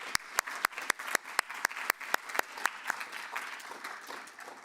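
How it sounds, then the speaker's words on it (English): Banquet audience applauding honourees at a Purdue Grand Prix victory celebration, a dense patter of many hands with a few sharp, distinct claps standing out, steady and moderately loud for several seconds. "let's give them a big round of applause for their work this year"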